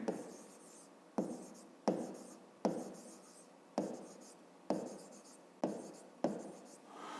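Someone writes out a fifth-grade math solution by hand, with about eight distinct scratchy strokes at a steady pace, close up and fairly quiet, each stroke fading before the next.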